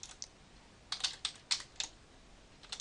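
Sparse keystrokes on a computer keyboard as HTML tags are typed, a few quiet separate clicks and short clusters with pauses between, close and alone without talk.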